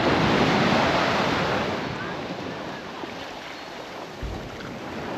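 Surf rolls onto the beach at Teignmouth on Christmas morning, a broad, steady wash of waves that is loud at first and eases slightly, with wind buffeting the microphone.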